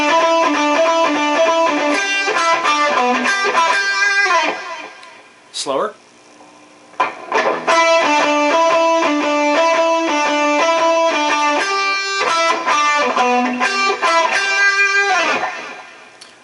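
Electric guitar playing a riff from the Viva La Bam theme with a double-picking pattern, sustained distorted notes in steady rhythm, briefly pausing midway while a voice speaks a word, then resuming loud and close.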